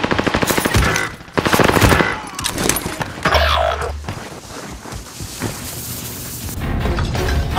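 Machine gun fire in Call of Duty Warzone, loud sustained automatic bursts with heavy booms and vehicle rumble, dense and continuous through the whole stretch of game audio.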